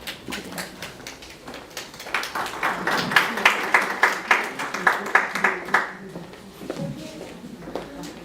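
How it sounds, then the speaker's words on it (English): An audience at a live-streamed event claps, the applause building into a rhythmic, even beat before tapering off, with voices murmuring underneath. "A round of applause"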